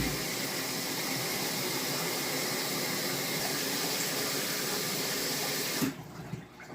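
Hot water sprays hard and steadily over freshly cleaned sprint car connecting rods, a loud continuous hiss that cuts off abruptly near the end, leaving quieter dripping and handling noise.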